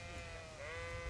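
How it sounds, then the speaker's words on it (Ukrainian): Cattle lowing in the medieval game Kingdom Come: Deliverance: long, drawn-out tonal calls that overlap and bend in pitch, with a steady low background of farmyard ambience and no talking. "Корови мукають."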